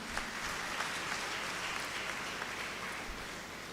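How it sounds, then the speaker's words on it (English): Moderate, fairly distant applause from the audience at a Grade 12 graduation ceremony for the graduating students, an even wash of clapping lasting a few seconds. "please give these wonderful kids a well-deserved applause"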